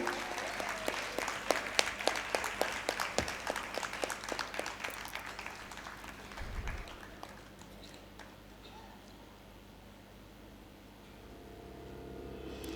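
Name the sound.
applause at award ceremony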